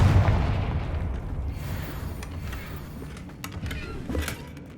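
Fiery Confringo spell blasts in the Hogwarts Legacy video game, with a loud boom at the start followed by crackling, rumbling bursts and a few sharp cracks fading over several seconds.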